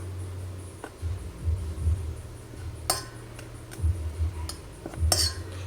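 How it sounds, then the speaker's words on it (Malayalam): Kashmiri chilli and other spice powders being mixed in a bowl for spinach fritters, heard as light metal spoon clinks and scrapes against the dish, with several sharper taps near the end. "കാശ്മീർ ചില്ലി ഈ പൊടികളൊക്കെ ഒന്ന് മിക്സ് ചെയ്യാം"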